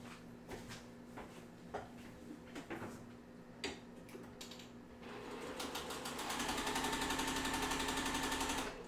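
A sewing machine stitching quilt fabric pieces starts with a few scattered ticks and clicks, then runs steadily and slightly louder for the last few seconds, close and without speech.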